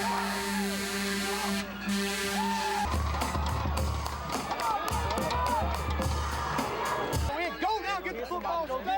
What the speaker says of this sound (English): a nice crowd here,